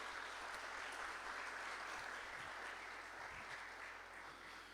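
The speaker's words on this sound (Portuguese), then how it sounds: "Vamos aplaudir essa família para louvor e glória do Senhor?" A church congregation claps for a visiting family, a faint, even wash of applause heard from a distance, holding steady for several seconds and tapering slightly at the end.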